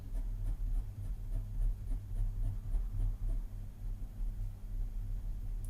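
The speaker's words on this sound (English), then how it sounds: "I'll write it here." Pen scratching steadily on paper at close range, a soft continuous scribbling with faint rhythmic strokes over a low background hum, while music theory exam answers are written out by hand.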